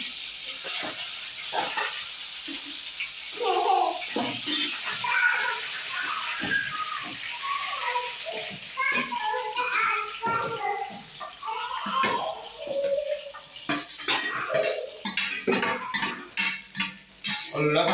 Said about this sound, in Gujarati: હવે આપણે નાખી દઈએ ટમેટા.